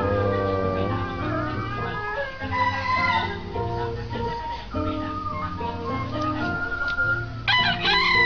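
Sundanese folk song about a fighting rooster, with a singer and harmonic instrumental backing; a crowing-like vocal phrase rises over the steady music.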